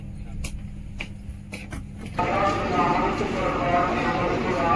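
Gondwana SF Express train pulling into Hazrat Nizamuddin station in Delhi at night, heard from inside: a few sharp clicks, then a steady, louder rumble of wheels and carriage noise that continues to the end.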